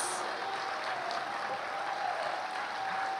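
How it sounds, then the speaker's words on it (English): An awards-ceremony audience at the 41st Annual Arts Awards applauds the honorees with a steady, even roar of clapping that continues unbroken for about three seconds. "Come on, keep the applause coming, come on, let's make some noise."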